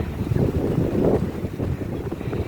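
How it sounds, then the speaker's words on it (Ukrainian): Wind gusts buffet the microphone, producing a steady low rumble with no voices. "пішов такий вітер"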